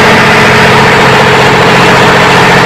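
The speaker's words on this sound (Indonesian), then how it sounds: "Baru kemudian kita matikan mesin bantu Yanmar." A Yanmar auxiliary generator engine idling aboard a ship gives off a loud, steady, close-up drone with a low throbbing rumble that holds unchanged throughout, with no talking over it.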